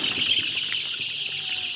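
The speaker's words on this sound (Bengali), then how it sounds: "টাইগার মুরগি" Tiger breed chickens on a small farm of about a thousand birds, clucking softly and chirping in a low, steady chorus over a constant hiss of farm ambience, with no talking.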